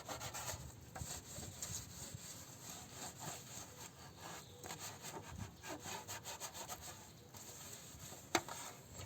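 A soft body wash mitt scrubs a plastic car wheel rim using only water, giving a steady rough rubbing and swishing with irregular strokes close by and a sharp knock near the end, with no talking.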